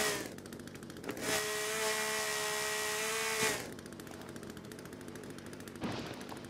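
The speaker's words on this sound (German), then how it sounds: "das Geräusch habt ihr doch schon vermisst, oder nicht? Welches? Ja, die Kettensäge." A chainsaw in the video game The Forest revs loudly for about two seconds with a high buzzing whine, then cuts off, leaving a rapid rattling idle and a short final burst.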